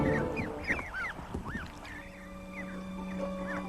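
Geese, several birds tended by a person, honk and call in repeated rising cries against a steady low hum, some calls near and others farther off, with no talking.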